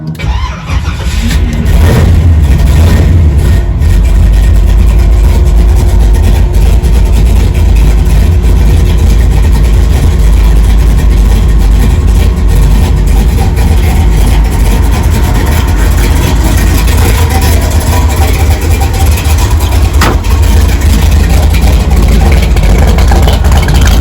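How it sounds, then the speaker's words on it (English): A 1971 Chevelle V8 cold-starts with a brief crank and catch, then settles into a loud, steady, rumbling idle that runs close and unbroken, with no voices. "Let's do a cold start video."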